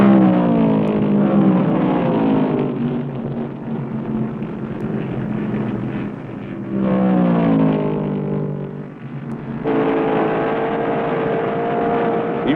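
Vintage 1970 Grand Am stock cars roar around a racetrack, engines droning loud and sustained with rising and falling pitch as cars pass and accelerate down the straightaway, one engine sweeping upward near the end.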